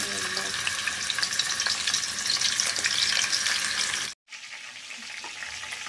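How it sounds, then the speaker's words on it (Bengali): Chicken pieces fry in hot oil in a pan, a dense, steady sizzle with crackling spatter, briefly cut off and then resuming slightly quieter. "এখন আমি চিকেনগুলো আস্তে আস্তে ছেড়ে দিচ্ছি"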